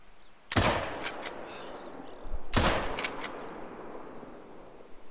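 Two loud lever-action 30-30 rifle shots fired while hunting on a coast, about two seconds apart, each a sharp crack followed by a long rolling echo that fades into quiet outdoor ambience.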